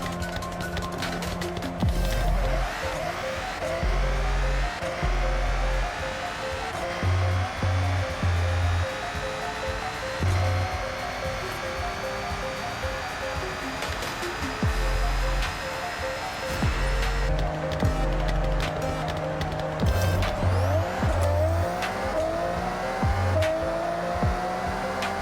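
Engines of a Nissan Skyline R32 GT-R and a Toyota Supra MK4 roar through a Forza Horizon race, sustained high revving with repeated gear shifts and rising pitch sweeps, loud and continuous throughout.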